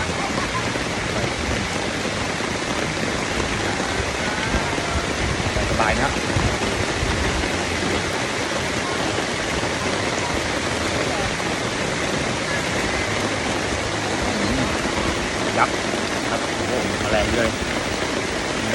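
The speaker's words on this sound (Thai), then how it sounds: "นี่คือบรรยากาศฝนตกนะฮะ" Steady, dense rainfall pours down in a forest beside a stream near Nakhon Nayok, Thailand, as a continuous broadband hiss, with a few faint drips and scattered voices underneath.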